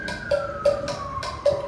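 An ambulance siren passing outside, heard as a wailing tone with short repeating pulses that slowly drop in pitch, at moderate loudness with no voices.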